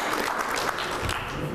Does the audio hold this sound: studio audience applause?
yes